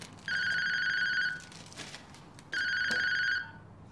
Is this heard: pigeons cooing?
no